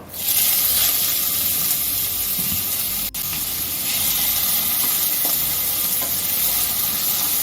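Cumin seeds, two bay leaves, chopped onion, ginger, garlic and green chilli fry in hot oil for dal tadka, giving a loud, steady sizzle with a brief dip partway through.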